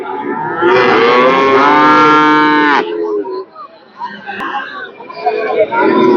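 Young heifer calves of Friesian, Jersey, Sahiwal and Australian breeds at a cattle market, one loud, close, drawn-out moo followed by background chatter and crowd noise with people talking.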